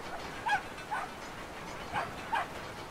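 Terrier dog in the game Brothers: A Tale of Two Sons barking in four short, fairly faint yaps spaced about half a second to a second apart over a steady background hum.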